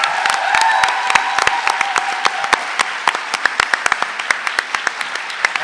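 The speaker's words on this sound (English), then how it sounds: "So please give a round of applause for our cast as well." A convention panel audience applauds the cast with dense, sustained clapping that starts full and thins toward the end into scattered individual claps, heard close and loud with no talk over it.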